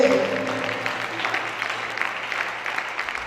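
Applause from a church congregation acclaiming the Lord for the mothers of the CFMC, a dense, sustained clapping that fills the room and trails off slightly toward the end.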